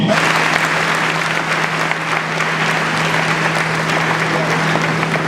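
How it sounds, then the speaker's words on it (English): Steady applause from a large crowd at the Asantehene Otumfuo Osei Tutu II's enstoolment anniversary celebration, loud and continuous throughout, with a faint low hum underneath. "Let us all give a big clap offering to our King."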